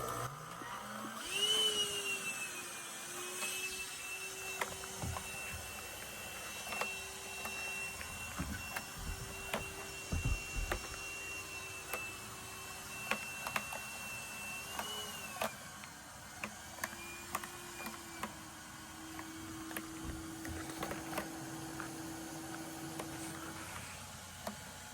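A vacuum with a whining motor hums steadily as it draws yellowjacket wasps from a nest cut out of a porch ceiling into a collection bottle, its pitch shifting slightly while frequent small ticks and thumps punctuate the drone.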